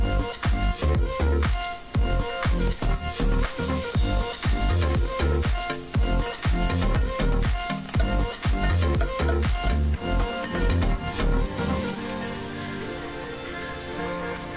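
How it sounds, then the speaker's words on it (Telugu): Sliced onions and curry leaves sizzling hard in hot oil for an egg omelette curry, a dense steady crackle and spatter up close with occasional stirring scrapes, easing slightly near the end. "ఉల్లిపాయలు వేగాక ఇప్పుడు కరివేపాకు వేసుకోవాలి."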